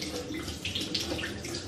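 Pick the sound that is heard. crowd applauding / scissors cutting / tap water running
tap water running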